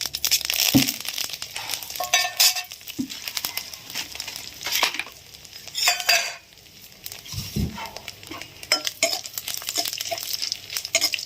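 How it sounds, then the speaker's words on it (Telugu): Curry leaves, dried red chillies and urad dal spluttering in a hot tempering pan, crackling and popping with intermittent clinks of a metal spoon against the vessel, close up and without speech. "చిట్టపట్లాడినాయి కదా, కరివేపాకు, ఎండుమిర్చి, మినప్పప్పు."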